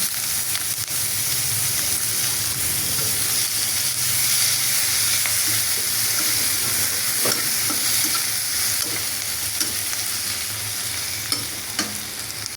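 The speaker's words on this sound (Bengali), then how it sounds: "পেঁয়াজ লাল লাল করে বাজ্যা নিলাম" Chopped onion and two dried red chillies fry in oil, a steady bright sizzle with stirring scrapes running throughout, close and continuous.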